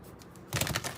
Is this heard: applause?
no